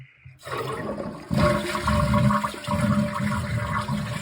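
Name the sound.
toilet flushing when testing the lever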